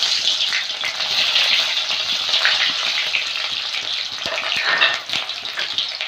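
Bay leaves and onion pieces frying in hot oil, a steady loud bright sizzle that holds throughout with small crackles and stirring noises, no talking.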